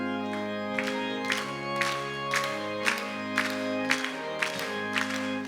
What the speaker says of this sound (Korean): 우리 다 같이 323장 박수를 치면서 힘있게 찬양하고